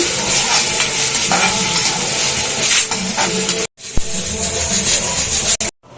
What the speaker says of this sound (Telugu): వేసేసుకొని సిమ్లో పెట్టి ఇవి మంచిగా వేగేటట్టు అయితే వేయించుకోవాలి